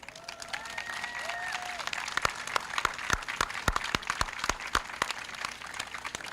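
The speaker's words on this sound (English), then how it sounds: "could the Northridge Elementary School students please stand for a well-deserved round of applause?" Scattered applause from a Memorial Day ceremony crowd for elementary school students, with sharp separate claps growing more frequent after a brief tonal sound at the start, moderately distant.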